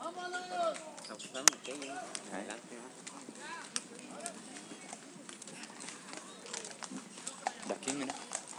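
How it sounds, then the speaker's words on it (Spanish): Large horses setting out from the starting point of a 2009 Chihuahua trail ride clip-clop along in a steady, busy patter under loud, constant crowd chatter. "Sí, caballos grandes."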